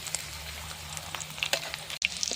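Beef tikia (kofta patties) frying in hot oil give a steady, close sizzle with a faint low hum beneath. A brief clink sounds near the end.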